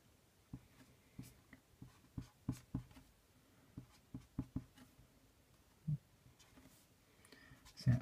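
Pen or chalk writes out a maths proof about the sum of a squared series, steady short scratching strokes tapping and sliding in a quick rhythm, close and fairly quiet with no voices.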